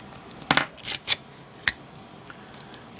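Scissors cut through duct tape for a wallet, producing a handful of crisp snips and crackly tape sounds in short irregular bursts, close and fairly loud against a quiet background.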